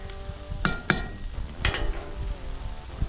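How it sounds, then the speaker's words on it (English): Spoon scraping the bottom of a pot of venison chili over sizzling frying, with a few sharp clattering scrapes standing out against a steady hiss. "I'll scrape the bottom. Loosen up all those good bits."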